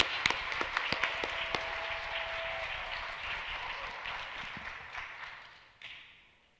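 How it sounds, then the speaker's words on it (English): Audience applause for a graduating student at the Harlem Academy tenth commencement, opening with a few sharp individual claps that swell into a steady round, then fading away at the end. "Let's have a round of applause for Ariel Seeley."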